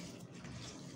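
Tap water running softly in a sink while a new sponge is rinsed, a faint continuous gushing splash with no voices.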